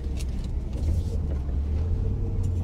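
A Jeep Grand Cherokee engine idles steadily with a low, even rumble heard from close by, while faint clicks and rustles sound over it and no one speaks.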